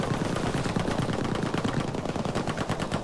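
Rapid automatic gunfire in the Battlefield 5 Firestorm game, dense bursts of fast machine-gun shots rattling continuously and loud, with no speech heard.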